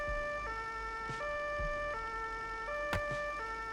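An emergency vehicle siren in the game Global Rescue wails in a steady two-tone pattern, switching pitch about every second and a half, heard clearly and alone with a few faint clicks.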